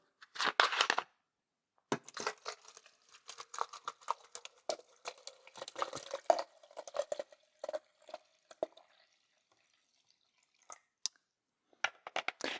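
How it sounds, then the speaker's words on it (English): Water pours into a film developing tank in uneven bursts of splashing and gurgling, close and fairly quiet, with pauses between pours and a few scattered handling knocks. "And fill up with the water."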